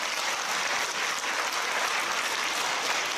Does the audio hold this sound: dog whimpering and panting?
no